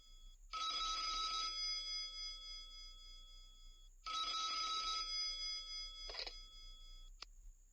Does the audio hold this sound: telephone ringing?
yes